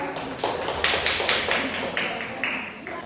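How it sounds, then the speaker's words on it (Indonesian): Scattered applause for a student group in a classroom, a few people clapping in uneven bursts that are close and fairly loud for about three seconds. "Beri aplaus untuk kelompok 2"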